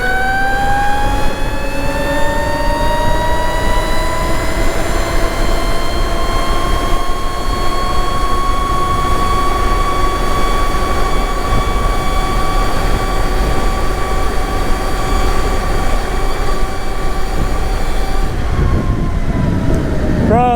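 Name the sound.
electric bike motor accelerating at full throttle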